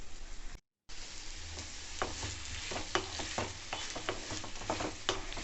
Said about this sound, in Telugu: ఆనియన్స్ కూడా యాడ్ చేసుకొని బాగా కలుపుకోవాలి.